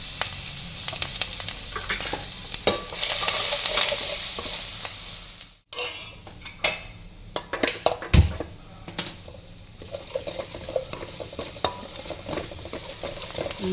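Asafoetida, garlic and chillies hit smoking-hot oil in a home kitchen, sizzling loudly while a spoon scrapes and stirs the pan, with a brief pause midway before frying and clattering resume.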